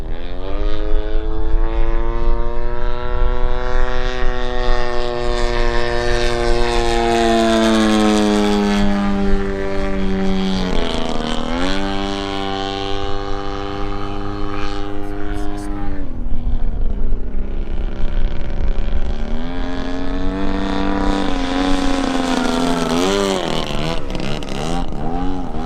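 Seagull Models Decathlon RC plane with a DA100 gas engine flying with smoke on, a loud, steady propeller drone that rises and falls in pitch as the throttle and passes change, continuous throughout.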